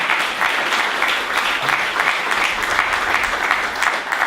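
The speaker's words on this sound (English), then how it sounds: "Yeah, you can go ahead and clap for that." An audience claps at a ribbon-cutting event for a new headquarters: dense, sustained applause at a steady level for several seconds, heard alone without voices.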